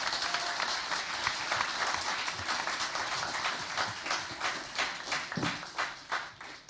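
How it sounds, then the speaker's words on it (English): An audience at the Spelling Bee of Canada championship, intermediate division, claps steadily in dense, sustained applause that fills the hall, with individual hand claps standing out as it slowly thins toward the end. "Let's give them all a big round of applause for a job well done."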